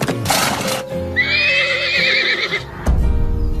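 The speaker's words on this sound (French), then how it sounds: "on dirait que c'est plus le même cheval qu'hier" A horse on a ranch gives a loud, close whinny lasting over a second, its wavering high neigh standing alone with a few low snorts and stamping sounds around it.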